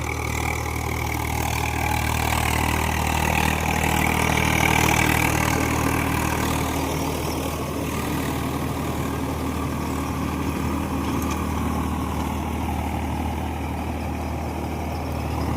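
A tractor engine ploughing a field drones loud and steady throughout, a low continuous rumble that barely changes in level.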